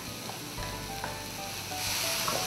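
Tomatoes drop into a pan of sautéed onions and set off a steady close sizzle and fry, which grows a little louder near the end with light crackles.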